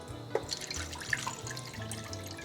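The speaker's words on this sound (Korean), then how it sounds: "물 1리터를 넣어주세요." One liter of water poured into a frying pan before lotus root is boiled; a quiet, brief splash and trickle with a couple of faint drips.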